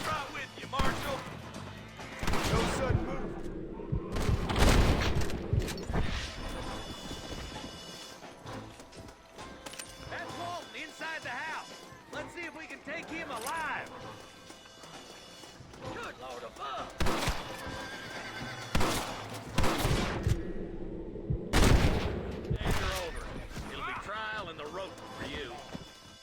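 Horses neighing and hoofbeats clattering among occasional gunshots in the Western game Red Dead Redemption, with loud bursts recurring over a stretch of spoken dialogue.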